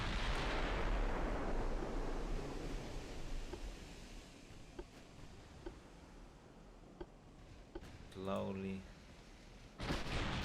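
Naval gunfire salvo in Ultimate Admiral: Dreadnoughts, a heavy booming blast opening the clip and fading into a long rumbling roar, with scattered ticks and a brief voice later.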